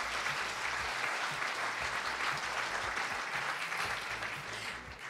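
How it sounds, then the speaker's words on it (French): Dense, steady applause from an audience at the awards ceremony for the CGénial 2023 national science competition final, honouring the production crew; loud and continuous throughout, easing slightly near the end. "Vous pouvez les applaudir"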